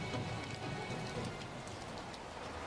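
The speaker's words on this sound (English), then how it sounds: "The rain stops." Steady, dense rain pours without a break during a storm in a children's animated animal-rescue adventure. It forms a loud, even hiss that fills the whole stretch.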